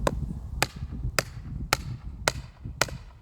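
Six sharp, evenly spaced hammer blows drive a stake into garden ground, ringing out about every half second over a low rumble of background noise.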